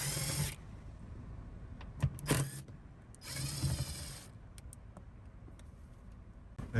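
Small Torx T27 bolts being removed from headliner trim inside a 7th-generation Honda Accord: short mechanical ratcheting and tool bursts, close by, separated by quieter gaps with handling noise.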